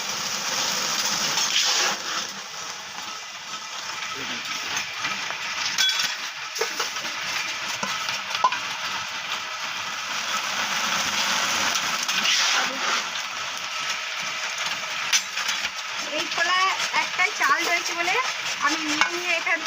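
Puffed rice made from coarse rice being fried and stirred in a very hot iron wok, with continuous gritty scraping and rattling of grains and a light sizzle, close and fairly loud throughout.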